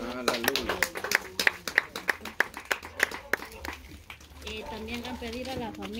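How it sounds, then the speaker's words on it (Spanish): A burst of hand clapping from a family birthday gathering in Joyabaj, Quiché, sharp claps for about four seconds, then fading as a voice takes over and keeps talking. "Aplausos."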